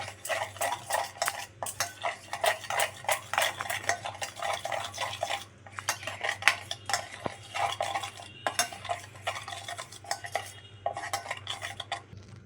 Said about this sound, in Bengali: তারপরে দিয়ে দিচ্ছি সর্ষের তেল এবার এটাকে ভালো করে মিক্স করে নিচ্ছি